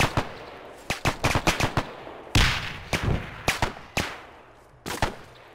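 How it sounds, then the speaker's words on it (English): Machine gun fire in the video game ARMA 3, set in the Pacific Solomon Islands, comes as sharp, loud bursts: a quick string of shots, a pause, then several single heavy reports with echoing tails. "This is a machine gun."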